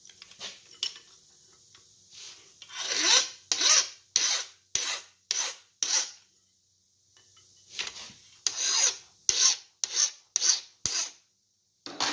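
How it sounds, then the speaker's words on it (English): A file rasps across a hardened tomahawk blade made from railroad clip steel, testing its hardness with about fifteen short, sharp, close scraping strokes in two quick series, separated by a brief pause. "The file skated on it, which is great."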